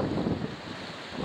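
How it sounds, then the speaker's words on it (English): Wind buffets a camcorder's built-in microphone with steady low rumbling and hissy gusts beside a canal lock and aqueduct, with no voices. "It's quite windy now, so I hope the sound's coming out okay."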